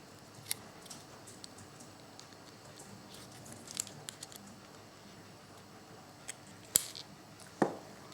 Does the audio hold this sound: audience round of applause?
no